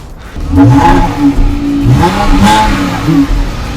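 A 3.6-litre, 300-horsepower V6 car engine revs hard and close, with rising and falling throttle blips over a loud idle.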